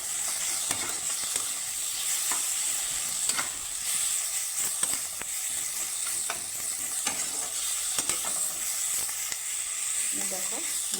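Softened tomato sizzles gently in a pan while a spoon stirs and scrapes through it in repeated strokes, part of an oil-free dish. A quiet voice is briefly heard near the end.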